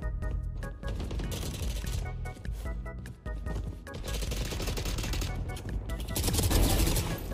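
Rapid automatic gunfire from a newly picked weapon in the shooter game Valorant, bursts of fast shots in several volleys with brief pauses, loud and up close, with game effects layered underneath.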